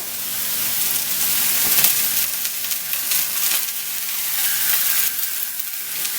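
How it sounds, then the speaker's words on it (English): Coho salmon butterfly fillets sear in hot oil in a pan, giving a steady, close crackling sizzle that runs unbroken with no voices. "our fish are going to go in there, and we're going to sear the fish off"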